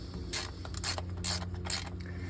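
Ratchet clicking in short bursts as it tightens plastic-mounted ignition coil bolts on a Toyota 4.7L 2UZ-FE V8, close up, with three or four rapid pawl runs separated by brief pauses.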